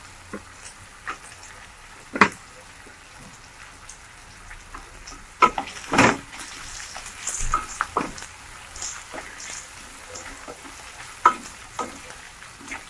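Carrots and other vegetables for veg fried rice stir-fry in a kadhai over a high flame with no lid: a low steady sizzle broken by sharp scraping clanks of the spatula against the metal, irregular and close.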